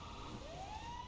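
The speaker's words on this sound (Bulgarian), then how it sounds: "А, това е пожарната." A fire truck siren in the video game GTA Online wails in a single rising sweep, faint and distant, over a low background rumble.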